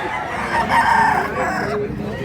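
A rooster crows once at a gamefowl sale in Mantalungon, Cebu, a loud drawn-out call standing out over steady background murmur of the market.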